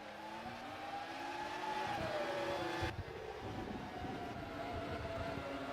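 A close pack of Formula One cars racing in the 2004 Spanish Grand Prix in the AI F1 Challenge 99-02 video game, engines whining continuously with shifting pitches as the cars run nose to tail.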